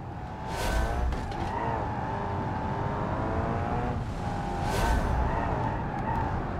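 Racing car engines whine and shift pitch in the Italy-crossing driving game Strassenrennen Deluxe, a continuous rising and falling drone with two sharp skid-like bursts and no voices.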